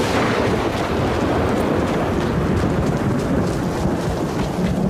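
Steady, dense rain hiss in the video game Arena Breakout fills the whole stretch with a low rumbling undertone, constant and loud, no voices.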